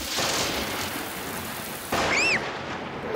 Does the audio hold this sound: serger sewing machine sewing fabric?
no